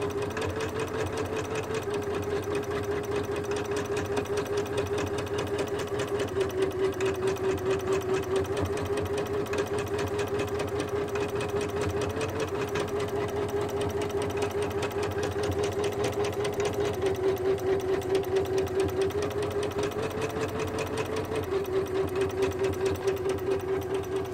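A Janome 350e embroidery machine stitches a quilting design on scrap fabric in a large giga hoop, a steady close mechanical whir with a rapid rhythmic needle beat and slight shifts in pitch, no voices.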